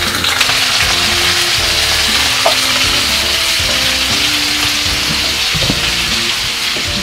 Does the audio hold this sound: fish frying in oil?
yes